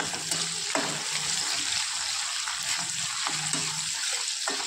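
Sliced onions sizzling in hot oil in a wide pan for chicken bhuna masala, a steady close frying hiss with a few soft clinks of stirring.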